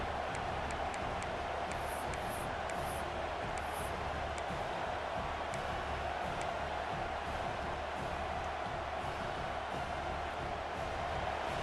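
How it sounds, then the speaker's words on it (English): Stadium crowd in a football video game roars in a steady, broad wash of cheering that holds for several seconds, with faint sharp clicks and accents on top and no clear talk. "the crowd coming to life here, trying to help this defense down in the red zone"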